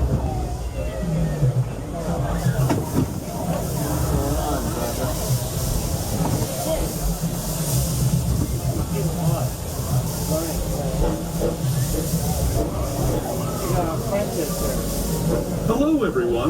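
Steam train on the Disneyland Railroad hissing steadily and loudly throughout, with rumbling wheels and car noise underneath while announcements and voices talk over it.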